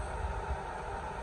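A steady, close whooshing rush of air from a blower drying a freshly painted intake manifold from a 1988 Starion, with a low rumble underneath, constant and unbroken.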